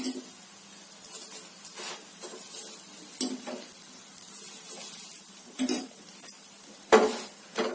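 Onion paratha frying in a mix of ghee and oil on a pan gives a steady close sizzle, broken by a few louder scraping and pressing knocks as the flatbread is worked.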